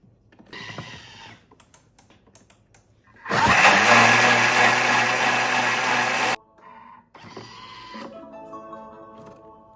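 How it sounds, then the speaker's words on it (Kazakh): A Thermomix blends carrots with ginger, turmeric and water at speed 10. A loud, steady high-pitched whirring roar runs for about three seconds, then cuts off sharply, with quieter mechanical clicks and hums before and after. "Термомиксті 1 минутқа 10-шы жылдамдыққа қосамыз."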